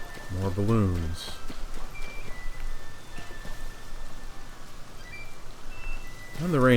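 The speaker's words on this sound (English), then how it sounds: "And the rain's finally stopping." Rain in the video game The Legend of Zelda: Tears of the Kingdom, a steady soft hiss of falling drops and patter running continuously beneath a voice speaking at the start and end, with occasional in-game chimes.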